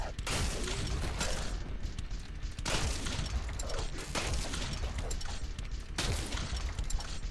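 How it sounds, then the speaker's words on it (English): An industrial shotgun fires repeatedly in a video game, three heavy booming blasts at regular intervals over dense continuous game noise and mechanical clatter, loud and without talk. "Oh, what do we have here? Industrial shotgun."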